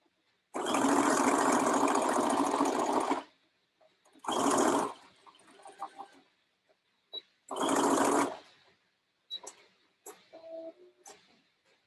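Sewing machine stitching the side seam of a child's dress skirt tier, running in three loud bursts of steady whirring separated by pauses, followed by softer brief clicks and handling sounds.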